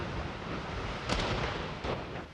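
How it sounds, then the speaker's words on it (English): An ammunition depot in Lagos explodes, distant booms rolling over a constant roaring rumble, with two sharper blasts standing out partway through and no voices. "The explosions went on for hours."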